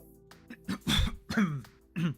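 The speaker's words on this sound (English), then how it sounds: "I guess I need a cough button" A close throat clearing followed by a few short coughs, loud and rough, in quick succession.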